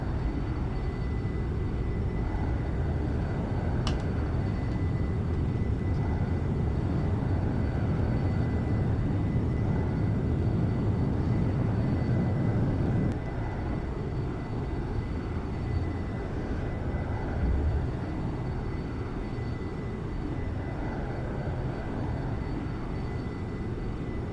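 Simulated airplane in X-Plane 11 powers up for takeoff from a short runway, a steady, broad engine drone held at moderate level throughout, easing slightly partway through, with no talk.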